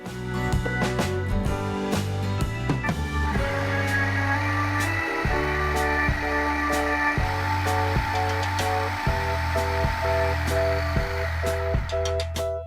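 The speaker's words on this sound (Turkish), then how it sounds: "Şimdi öncelikle rondomuzun içinde tekrar bu pişirmiş olduğumuz kabağımızı çekiyorum" A food processor purees cooked pumpkin for a tart, with a loud, continuous motor whine whose pitch steps up and down as the blades work, and a few sharp clicks along the way.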